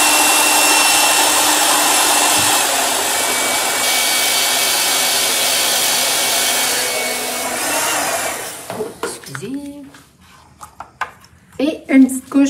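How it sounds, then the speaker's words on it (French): A hair dryer blows steadily over an image transfer on a craft project, a loud continuous whoosh for about eight seconds that then stops; afterwards someone speaks. "On donne un petit coup de séchoir."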